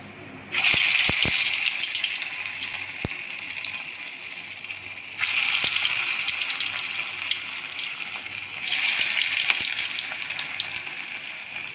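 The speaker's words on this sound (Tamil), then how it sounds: "இப்போ பொரிச்சு எடுத்துடலாம்." Mutton kola balls deep frying in hot oil, a steady loud hiss and crackle of bubbling fat that rises sharply in three bursts as batches go in, with a few faint clicks and no talk.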